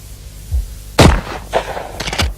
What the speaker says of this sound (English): that's how a Benelli shotgun shoots and aims by itself